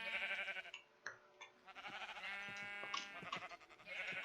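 Several sheep in Minecraft bleat in quick succession, overlapping wavering cries that are clear and fairly close, with no talk over them.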